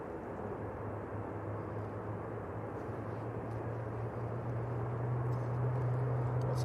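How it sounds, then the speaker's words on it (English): An Etihad Boeing 777 airliner rolling for takeoff at Manchester Airport, its engines a broad, steady roar with a low hum that slowly builds in loudness, heard from a distance with no talking. "Sounds like a 777."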